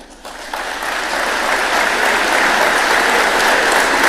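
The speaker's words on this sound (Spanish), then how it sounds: "cuando termina Milei y empiezan los aplausos" Dense crowd applause swells after Milei finishes his speech, a loud, steady wash of many clapping hands that builds over the first half second and then holds at full strength.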